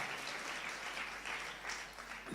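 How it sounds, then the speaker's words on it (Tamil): Congregation applause fills a church during a Sunday service at Zion AG in Chennai, a steady, dense wash of many hands clapping at moderate level throughout, with no break. "நல்ல ஒரு பெரிய கரகோஷம் கொடுத்து"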